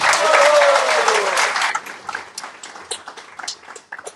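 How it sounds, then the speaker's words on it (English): An audience at a public program in Mauritius breaking into loud applause that swells at first and then thins into scattered claps fading out. "Un grand applaudissement à Haribol."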